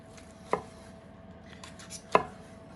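Slow-roasted fallow deer shoulder with herb filling being carved into slices, two distinct knife strikes against a board about one and a half seconds apart over a faint background.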